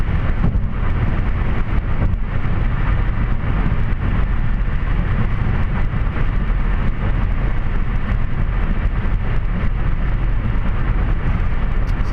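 Steady, loud road roar from an automatic car cruising on a freeway at night at about 100 km/h, with a continuous broadband rumble of tyres and wind and no break.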